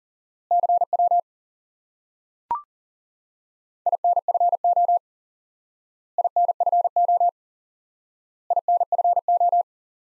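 Morse code CW practice with a single element repeated: a steady pure tone keyed in short, evenly spaced groups of beeps separated by silent gaps, plus one brief click.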